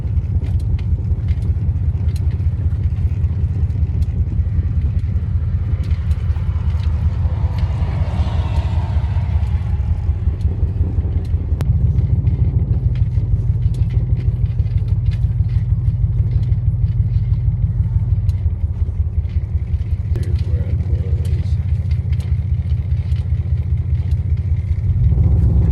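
A truck engine droning steadily while driving, a low loud rumble with rattling clatter and slight shifts in pitch as it moves along, continuous throughout with no voices.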